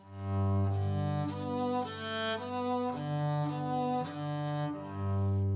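A cello plays a slow sequence of bowed notes, one sustained tone after another, smooth and resonant with no voices.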